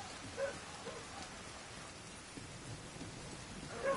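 Steady rain hisses in the game Division 2, a constant wash of falling drops with a few faint soft thumps, no voices.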